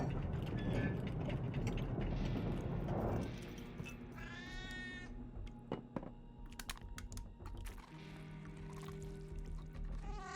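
A cat meows a few times in a video game, faint and fairly distant, among clicky keyboard typing and soft mechanical game noises.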